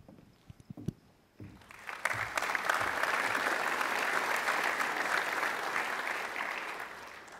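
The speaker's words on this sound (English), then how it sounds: "Please hold your applause until the end." An audience at a secondary school awards ceremony bursts into steady applause after a few scattered footsteps and knocks. The clapping swells quickly and holds at an even, full level, then eases slightly toward the end.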